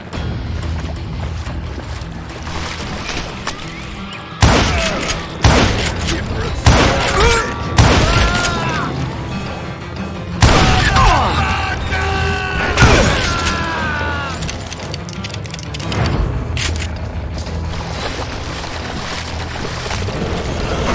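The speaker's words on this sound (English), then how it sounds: "a fusillade of bullets come raining down from on high" Gunfire in Call of Juarez: Gunslinger, a western shooter, with loud cracks and bursts of shots ringing out in clusters over a rumbling backdrop, interspersed with other mechanical and impact noises.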